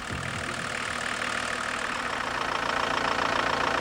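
A diesel car engine idles with a steady low rumble and faint knocking clatter, continuous and close with no talk over it.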